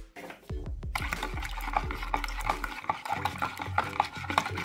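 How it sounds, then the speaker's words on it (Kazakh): Spoon or whisk stirring a wet batter of warm water, milk, yeast, sugar and egg in a bowl, with a few clinks at the start and then steady, busy scraping and sloshing close up, no talk. "Бір қасық ашытқымды, қантымды және де бір жұмыртқамызды қосып, жақсылап араластырамыз"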